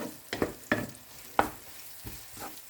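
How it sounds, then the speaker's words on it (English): Garlic and onion sautéing in hot cooking oil while being stirred, giving a few separate scraping stirs with a low sizzle underneath, moderately quiet with no talk. "In a heated pan with cooking oil, sauté the garlic and onion."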